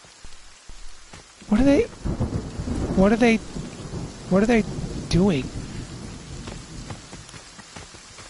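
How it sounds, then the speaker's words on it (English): Rain and thunder in the video game Friday the 13th: a steady wash of rainfall and low rumbles sit under a player who talks several times over the game sound. "It's raining, but it's a clear night."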